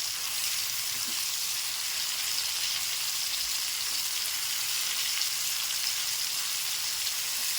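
Chicken pieces fry in a pan with a steady, close, even sizzle and crackle like light rain, continuous throughout with no talking.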